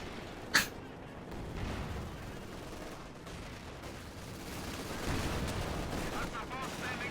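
A 6-pounder anti-tank gun firing in the real-time strategy game Company of Heroes 2: a single sharp, loud report right at the start, then steady distant battlefield rumble and scattered combat noise.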